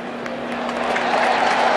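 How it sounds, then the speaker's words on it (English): Crowd at a 1999 college football game between Southern Miss and Texas A&M applauding in the stadium, a loud, steady roar of clapping and cheering heard alone without talk. "The crowd's applauding as if it's naturally going their way."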